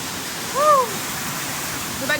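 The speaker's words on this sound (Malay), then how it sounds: "Sana dekat top air terjun waterfall." A waterfall roars as a steady, broadband rush near an ATV trail, with a brief whistle-like tonal chirp partway through and no talking.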